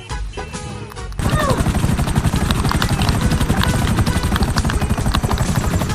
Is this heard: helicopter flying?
yes